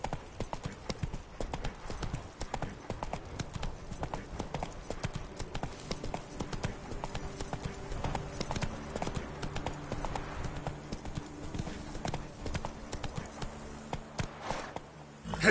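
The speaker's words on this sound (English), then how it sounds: "Whoa there, Roach" Horse hooves clip-clopping in The Witcher 3 on PS4, a steady rhythmic trot of clear hoofbeats running throughout at moderate loudness, with faint game ambience beneath.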